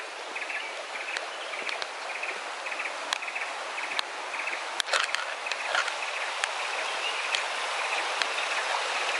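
A small stream near the Coban Cakung waterfall on a wet hiking trail in light drizzle gives a constant soft rushing hiss. Scattered faint bird chirps and occasional small clicks rise over the water noise.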